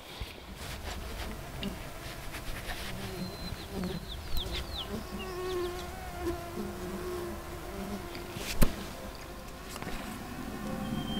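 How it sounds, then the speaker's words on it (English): Swarms of mosquitoes buzz around a mountain lake campsite on a hot evening, a steady close whine under scattered faint bird chirps and a few brief knocks. "Man, these mosquitoes, holy cow."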